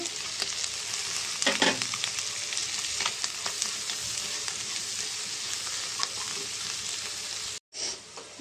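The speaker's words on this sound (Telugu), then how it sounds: "దీంట్లో మనం కొత్తిమీరని కరివేపాకు కూడా వేసుకుందామండి అది కూడా మనకి బాగా ఫ్రై అవుతాయి" Coriander and curry leaves frying in hot oil for a chicken fry dish, giving a close, steady sizzle with occasional stirring and spatter pops, briefly cut off near the end and then resuming.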